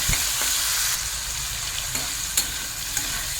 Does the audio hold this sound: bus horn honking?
no